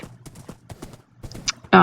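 Horse hooves clip-clop in a quick, uneven rhythm as a horse is ridden toward a village in a video game, fairly close and soft, ending with a sudden loud burst of noise.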